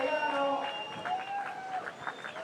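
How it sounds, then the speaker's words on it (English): Crowd cheering and clapping at a bodyboarding contest on the beach, a steady wash of distant noise with a commentator talking over it. "Just heard the crowd go crazy."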